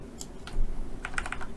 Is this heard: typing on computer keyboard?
yes